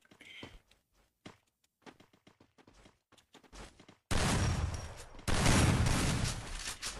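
Gunfire with shotgun blasts in a shooter video game: quiet scattered footsteps and small sounds first, then dense, loud sustained bursts of shots that fill the second half.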